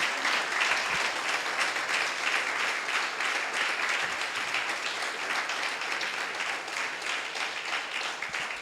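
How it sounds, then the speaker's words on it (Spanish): A church congregation applauds in a dense, sustained wash of clapping that stays steady and fairly loud from start to finish, no voices on top. "Denle un aplauso al Señor,"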